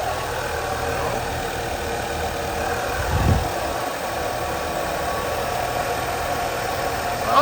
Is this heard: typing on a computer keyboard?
no